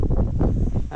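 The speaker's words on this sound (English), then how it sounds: "Oh, the wind's just picked up." Wind picking up outdoors on a cattle farm, a low, buffeting rumble with gusty swells striking the microphone, steady and fairly close.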